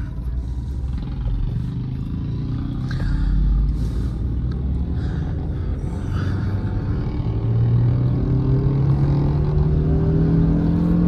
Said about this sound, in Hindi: 4000 आरपीएम के बाद थोड़ा सा आपको लगेगा खिंच रही है गाड़ी।